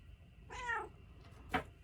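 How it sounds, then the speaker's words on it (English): A cat meows twice: one drawn-out, wavering meow followed by a shorter, sharper one about a second later, close by in a quiet room. "as you can see here, I have a cat."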